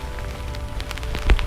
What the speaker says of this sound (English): And rain's definitely coming down now